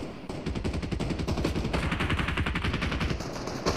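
Rapid automatic gunfire from Fortnite rattles continuously and loudly, a dense stream of shots with no pauses and no talking over it.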